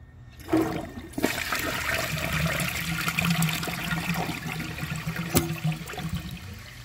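A Vortens Murano toilet flushes, with the handle held down, with a sudden whoosh of rushing water that settles into a steady, gurgling flow and trickle, close by, with no talking.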